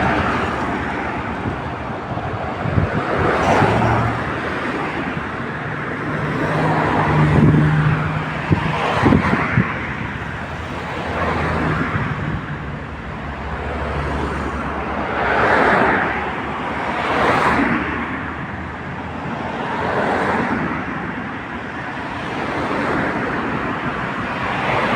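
Street traffic by King Hamad Hospital, cars rushing past one after another in repeated swells, fairly close and steady, with some wind rumble and no talk.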